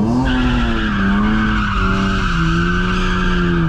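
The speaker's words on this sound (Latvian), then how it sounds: "O tagad brauc lielāku apli, nebrauc uz riepām, brauc tā, davai." Continuous loud tire squeal from a car skidding as it drives in tight circles, the pitch sliding and wavering throughout, close and dominant with no talk.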